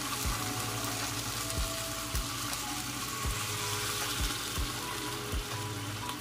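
Water is poured into a pan where red snapper head is cooking with tomato and long chili, and a steady loud sizzle and bubbling runs throughout.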